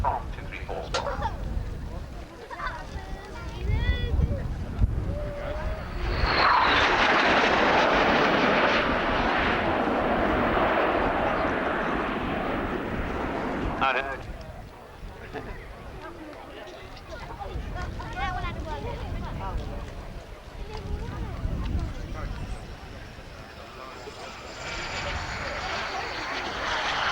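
An RAF 234 Squadron jet roars past in a final display run and break at the 1990 RAF Abingdon Airshow, swelling to a loud sustained rush then fading, with a commentator and crowd murmur heard around it.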